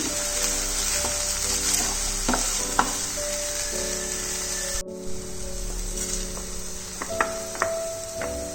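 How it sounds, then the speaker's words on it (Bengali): Poppy seed and mustard paste fries in oil with a loud, constant sizzle, punctuated by scraping stirs, while a steady tonal hum runs underneath and cuts briefly midway. "পোস্ত বাটাটাকে ভালো করে তেলে ফ্রাই করে নিচ্ছি আমি"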